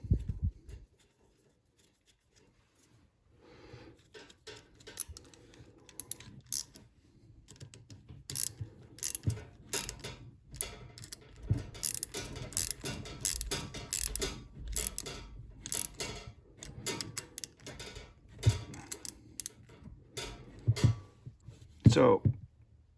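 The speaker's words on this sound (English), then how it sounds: "These are 10 millimeters, and you can just bolt that down." Two 10 mm bolts on a brake line clamp are tightened by hand with a ratchet, giving close, quiet clicking runs in irregular bursts with short pauses.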